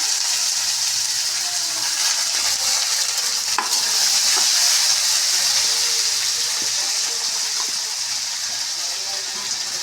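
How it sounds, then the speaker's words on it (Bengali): Cut potatoes for a water spinach and potato dish sizzle loudly and close in hot oil, a dense, even hiss lasting the whole stretch, with occasional faint scrapes and clicks of a spatula. "এবার আলুগুলোকে ভেজে নেবো একটু, আলুগুলোকে দিয়ে দিয়েছি"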